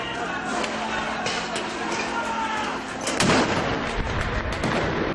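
Loud bursts and cracks of fireworks at a Euromaidan street protest, with sharp bangs over a dense, continuous roar of crowd noise and voices; a heavier blast lands near the middle.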